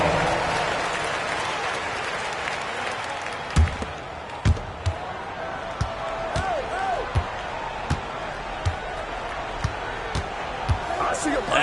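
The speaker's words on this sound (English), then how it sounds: "Give yourself a round of applause." An arena crowd applauds during a timeout at a Clippers basketball game, a broad wash of cheering and clapping with sharp ball bounces and thumps punctuating it, and an announcer talking over the noise.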